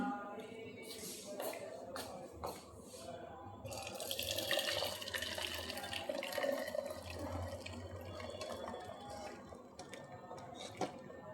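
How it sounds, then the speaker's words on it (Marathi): Water from boiled wild greens pours and trickles through a strainer, swelling into a fuller splashing flow midway before tapering back to a thin trickle. "असं गाळून घ्यायचं पाणी"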